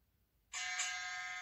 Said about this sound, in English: Now I'm going to use my round timer. You're going to hear the tones.